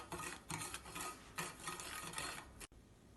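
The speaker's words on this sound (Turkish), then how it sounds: "Tüm malzemelerini sürekli karıştırarak kaynama noktasına gelene kadar pişiriyorum." A cocoa cake sauce being stirred continuously in a pot as it cooks toward a boil, a steady scraping, rubbing swish with rhythmic strokes, close and alone, cutting off abruptly near the end.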